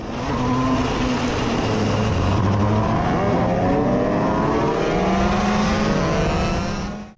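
Shifter kart engines scream loudly at a race start, several motors revving and climbing through gears in overlapping rising whines, close and continuous with no talk.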